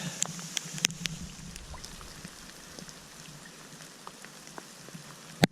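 Rain falls on a mountain hiking track along the Overland Track: a steady, soft patter with scattered sharper drops close by, and no voices.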